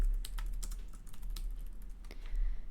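Rapid keystrokes on a computer keyboard while entering text in OneNote, a dense run of close, crisp clicks with no talking.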